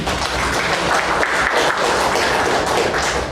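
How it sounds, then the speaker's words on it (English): A club meeting audience gives a speaker a big round of applause: dense, steady clapping from many hands fills the room without a break, loud and close, with no voices over it. "let us give a big round of applause to Sunil"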